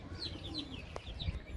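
Pigeons on a rooftop give faint, brief cooing calls mixed with light chirps against a soft outdoor background, heard for just over a second.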